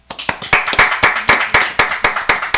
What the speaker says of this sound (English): Another round of applause for Peaches and Abe.